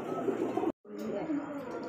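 Bombay pigeons cooing at a large pigeon farm, a continuous murmur of several birds with a brief cut in the sound partway through.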